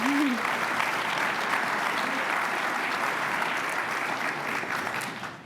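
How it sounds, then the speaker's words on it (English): Sustained applause fills the room at a State of the City 2022 address, with many hands clapping in a dense, even wash and a brief voice near the start before the clapping fades slightly at the end. "Clap for that."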